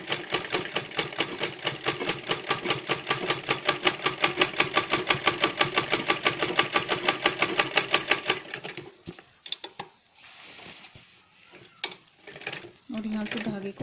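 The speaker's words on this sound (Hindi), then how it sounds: "उसके बाद यहाँ से सीधी सिलाई लगा देंगे" A sewing machine stitches a zip pocket on a bag in a fast, even run of needle strokes for about eight seconds, then stops, leaving a few handling clicks and rustles.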